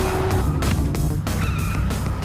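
A gang's car races through traffic in a chase, engine loud and close with short tire squeals and skidding bursts over a dense, continuous roar.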